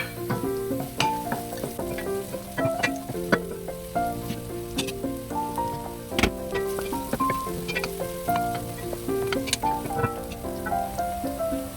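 Garlic and ginger sizzle steadily in a hot pan while beef pares is cooked, a continuous close frying crackle with scattered sharp pops and faint stirring clinks throughout, no talking.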